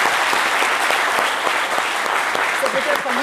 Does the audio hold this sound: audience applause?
yes